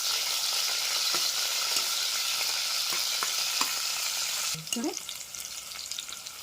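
Drumstick pieces fry in a pan with a loud, dense sizzle and a few spoon taps. Partway through, the frying drops to a softer crackle.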